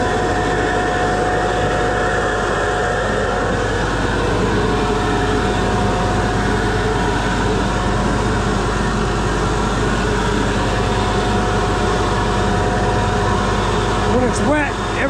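A loud tractor drones steadily nearby during cleanup of a blueberry harvester, a dense constant mechanical rumble and whine with no pauses, filling the whole stretch at close range.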